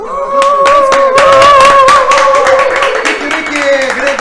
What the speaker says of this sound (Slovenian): To, bravo, ploskali smo!